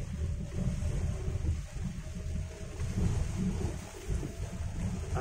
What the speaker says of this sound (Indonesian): angin dari kiri ke kanan nih gede banget nih